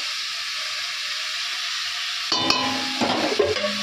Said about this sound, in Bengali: কড়াইতে আমি শুকনো লঙ্কা কালো জিরে দিয়ে দিয়েছি, আর আলুটা একটু দিয়ে দিয়েছি, ভাজা ভাজা হবে